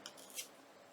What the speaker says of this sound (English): I have some strips that I'm going to cut longer than my book